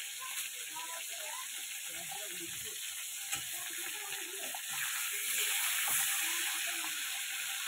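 Fish frying in hot oil in a home kitchen, a faint steady sizzle running throughout with a few soft clinks of utensils.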